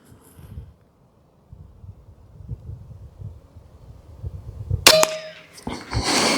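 A Stormrider 22 tactical air rifle fires heavy slugs at a target 25 yards away. After quiet background rustle, one sharp, loud crack rings out with a metallic clang, followed by a second bright burst.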